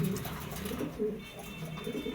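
Pigeons in a loft, racers and Spanish pouters among them, coo steadily in low rolling calls, a pair preparing to nest as the male pecks at the hen, with soft wing and cage noise around.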